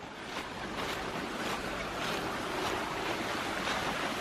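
A small stream flows through a hillside gorge, heard as a steady, full rushing wash of water, fairly loud and continuous, with some wind buffeting and no one speaking.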